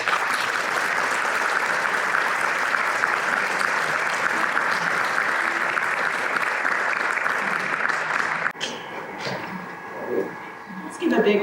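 A large audience claps in sustained, dense applause at a university event, holding steady before cutting off abruptly, after which a voice speaks over faint lingering claps.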